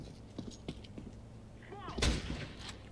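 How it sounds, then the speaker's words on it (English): A single wallbang gunshot fired through a wall in the CS:GO video game rings out sharply near the end, after quiet footsteps and faint game ambience, with commentary speech around it. "the attempt at the wallbang coming in"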